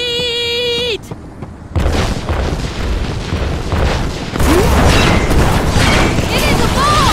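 A bomb blast in Trials of Mana, a tone cuts off, then a brief quiet before a loud rumbling explosion bursts in and sustains with crackling debris that grows louder toward the end, voices audible amid it.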